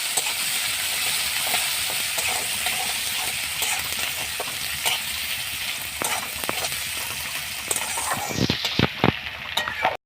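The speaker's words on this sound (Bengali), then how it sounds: "পেঁয়াজটাকে আমি লাল লাল করে ভেজে নেব" Chopped onion sizzles in hot oil with cumin seeds in a pan, a loud steady frying hiss with occasional stirring clicks and scrapes, the sizzle cutting off abruptly near the end.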